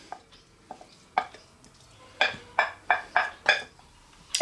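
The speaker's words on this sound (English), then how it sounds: "we're just going to stir that together" A stuffing mixture with onion and cracked black pepper stirred in a pot, a series of distinct scraping strokes that come faster and louder toward the end.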